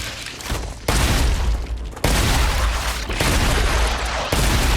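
Grenade blasts and heavy gunfire in the sci-fi game StarRupture: several loud, dense bursts of explosive noise that cut in abruptly one after another, close and sustained.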